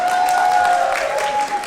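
Applause from a comedy podcast audience, a steady wash of clapping that holds at an even level for under two seconds, with a thin sustained tone running through it.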